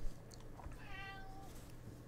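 A domestic cat gives one clear, drawn-out meow near the middle, fairly close over faint background game noise, with a few small clicks around it.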